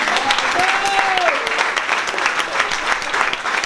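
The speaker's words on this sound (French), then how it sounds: "les anciens qui venaient applaudissent les nouveaux" Comedy club regulars applauding newcomers, a sustained, dense round of clapping from a crowd with voices and a cheer rising over it.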